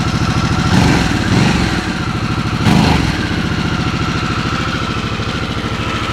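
A 2021 Harley-Davidson Sportster S idles steadily up close, a low, lumpy throbbing exhaust rumble with a couple of slight swells in revs.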